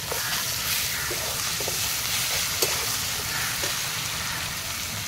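Onion, tomato, carrot and capsicum are stir-fried in a pan for a Chinese-style chicken dish, with a steady, close sizzle and faint rhythmic stirring scrapes throughout.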